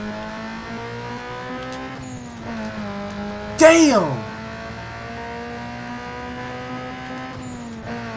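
Turbocharged car in the Need for Speed Underground 2 racing game, a steady engine drone with a rising and falling spool whine and a brief sharp squeal midway, under a voice.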